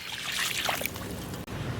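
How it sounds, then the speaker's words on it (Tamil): Water pours steadily into a cooking pot of chicken for gravy, a continuous splashing, trickling rush, fairly close, ending with a brief break near the end. "சிக்கன் முங்குற அளவுக்கு தண்ணி சேர்த்துக்கலாம்."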